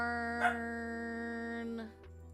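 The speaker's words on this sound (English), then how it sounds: "What are you barking at?" A corgi puppy's high, tonal bark or whine rings out briefly, then a sustained harmonic whine holds for over a second before cutting off; no talking.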